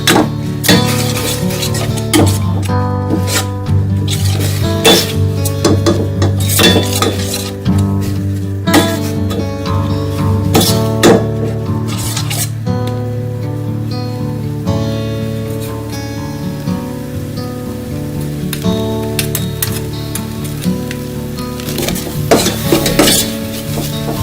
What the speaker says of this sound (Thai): เราจะคั่วเครื่องแกงให้หอมนะคะให้เครื่องแกงสุกก่อนนะคะ